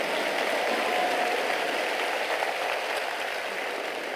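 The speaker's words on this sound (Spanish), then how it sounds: "Dele un fuerte aplauso al Señor." A church congregation applauds together, a steady broad wash of clapping that holds evenly and fades slightly toward the end, with no talk over it.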